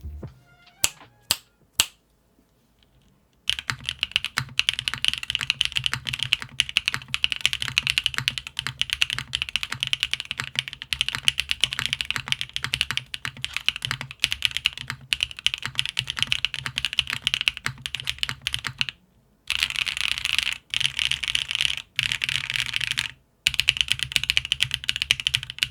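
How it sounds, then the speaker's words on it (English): Typing on an MM Studio Class 80 R2 mechanical keyboard in plateless configuration with JWK switches and GMK keycaps: a few isolated clacks, then a long run of fast, crisp, close keystrokes with brief pauses, no talking. "Here's the typing test."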